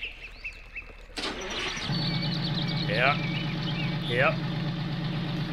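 An International Lodestar truck in Farming Simulator 19 cranks over and fires, then settles into a steady, low, throbbing idle, with someone speaking briefly over the running engine.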